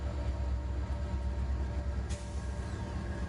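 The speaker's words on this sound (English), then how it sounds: "You can feel the train breathing beneath you" Steady, low rumble of a moving train heard from inside a carriage, a continuous muffled roll with a brief faint high squeak partway through.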